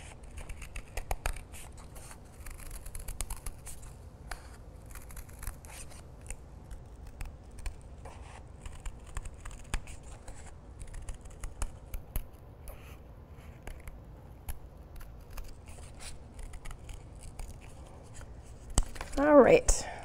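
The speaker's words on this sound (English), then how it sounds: "you can cut on your line all the way around" Scissors snip through paper along a drawn line, making a run of quiet, irregular close cuts and crisp rustles over about twenty seconds, ending in a louder paper crinkle.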